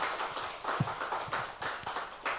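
A church congregation claps together at the close of a mission service, quiet and somewhat distant, with a soft rhythmic patter of hands and a few louder claps.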